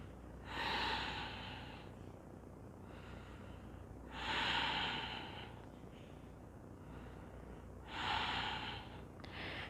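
Slow, deep breaths during a therapeutic yoga pose, three long airy exhales spaced about four seconds apart, close and fairly soft, without talk.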